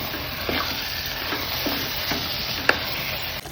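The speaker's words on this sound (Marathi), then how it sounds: "मटण टाकणार. चांगलं फिरवून घेऊया." Mutton sizzles and fries in a pan for a mutton curry while being stirred, with a soft steady crackle broken by several scraping stirs and one sharp clink, close and without talk.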